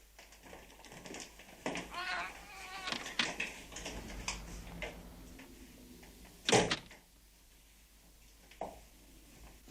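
A door is opened in a quiet room, with a cat meowing and a voice speaking nearby; the door movement brings a brief louder burst amid soft ambient noise.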